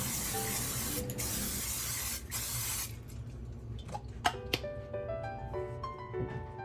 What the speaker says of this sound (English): grab some non-stick cooking spray, and grab a large pan and give it a nice coating at the top there.